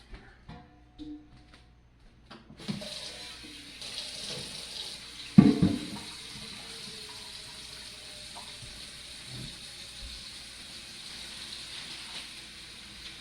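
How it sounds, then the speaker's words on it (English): Water runs steadily from a tap into a sink, a continuous hiss and splash with a louder clatter midway and faint background movement. "Let's get the water going first."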